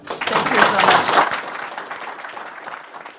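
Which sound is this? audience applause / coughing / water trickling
audience applause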